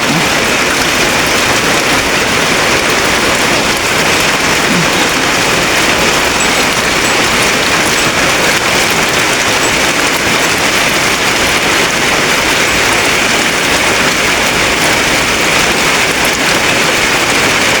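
Heavy rain pours down in a steady, loud, unbroken hiss that stays constant throughout.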